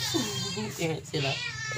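A cat meows several times in quick succession, close and fairly loud, with a wavering, drawn-out cry mixed with some indistinct speech.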